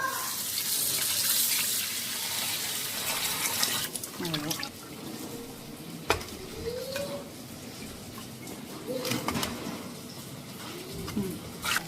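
Dried fish is rinsed under a running tap, a steady close splash of water that dominates at first and then continues with brief knocks, while faint cooing or voices rise now and then in the background.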